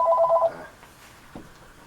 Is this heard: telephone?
yes